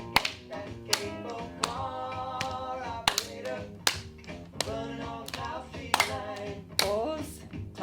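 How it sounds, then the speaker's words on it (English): Hand claps in a seated dance-for-wellbeing class for people with Parkinson's, sharp single claps recurring at a steady beat over soft music, close and distinct. "Clap, shoulders clap."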